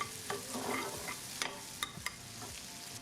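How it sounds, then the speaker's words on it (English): Lamb, butter and onion simmering in a pan, a soft low sizzle with scattered utensil clicks and scrapes, quiet and close, no speech. "We're gonna let that simmer for a minute."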